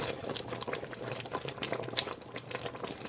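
Winter jam boiling hard in a deep pot, thick bubbling and spitting pops in an irregular patter with a brief sharp splatter, close and steady, no voices.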